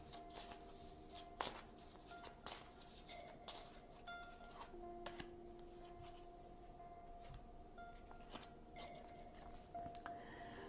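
Tarot cards being shuffled and handled, a soft papery riffling with scattered sharp flicks and taps, close and quiet with no talking.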